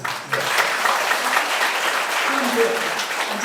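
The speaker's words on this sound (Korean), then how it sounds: "그럼 박수 한번 보내주세요." A roomful of party members at a Korean political gathering applauds steadily and fairly loudly for the whole stretch, a dense continuous wash of clapping with faint voices mixed in.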